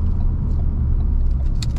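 Ford Focus RS hot hatch accelerating from inside the cabin, a steady loud low engine rumble and road roar running throughout the short stretch with no talking.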